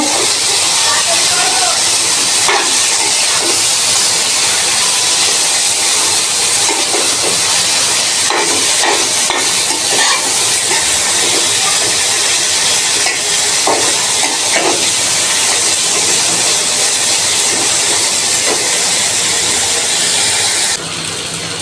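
Loitta (Bombay duck) fish is added to a hot pan with spices and sizzles loudly and continuously, with scattered stirring clicks and scrapes throughout.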